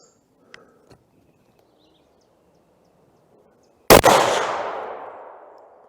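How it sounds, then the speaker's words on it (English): A single loud .308 Winchester rifle shot with 150-grain ammunition cracks at an outdoor range after a few faint clicks, its sharp report followed by a long rolling echo fading over about two seconds. "I'm going to shoot for the right side upper bullseye this time."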